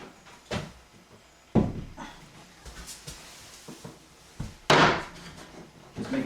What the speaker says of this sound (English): Just make it so I can close the door.